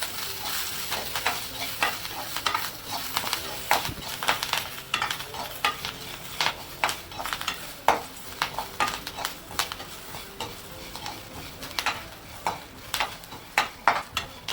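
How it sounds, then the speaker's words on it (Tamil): Coconut and curry leaves frying in a little oil in a pan, a steady soft sizzle broken by repeated scraping stirs and light clinks of a spatula against the pan, close and without talk. "இது நல்லா எண்ணெயில் வறுத்துக்கலாமா, கொஞ்சமாக எண்ணெய் ஊற்றிட்டு இதை வறுத்து வச்சுக்கலாம்."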